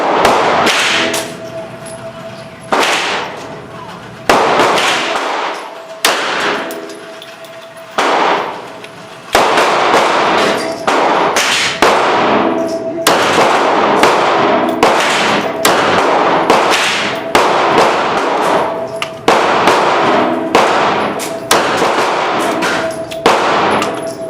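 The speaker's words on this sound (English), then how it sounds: "getting ready to shoot the CCI Maxi-Mag 40 grain hollow point." Kel Tec PMR-30 pistol firing CCI Maxi-Mag 40 grain hollow point rounds, a long run of sharp, loud cracks in irregular clusters, close by with no talking.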